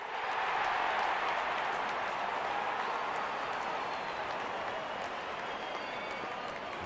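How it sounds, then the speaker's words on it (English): A steady, dense roar of crowd cheering and applause greets the openers in the Real Cricket 22 video game, holding at an even level throughout with no talk over it. "Out come the openers, cheered by a good crowd in."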